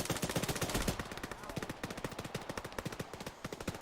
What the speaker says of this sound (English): we're getting this machine gun in the fight